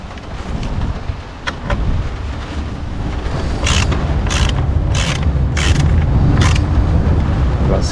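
A 13 mm socket ratchets on the battery nut of an Audi Q2, giving a series of crisp, repeated clicks over a low rumbling background, fairly close and with no voice.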